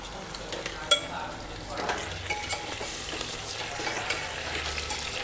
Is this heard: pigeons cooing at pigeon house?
no